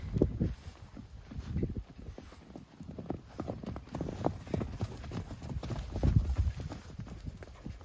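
A lesson horse walks on arena footing, and its hooves clip-clop in a steady, close rhythm over faint background noise, with no talk.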